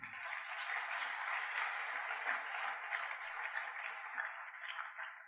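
Church congregation applauding during a Sunday service, a steady, fairly faint wash of clapping that holds evenly without a break.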